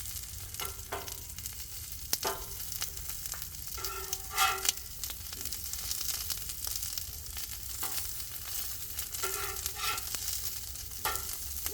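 Potatoes sizzle and fry on a griddle with scraping spatula sounds and several quick flips, a steady crackle running underneath throughout.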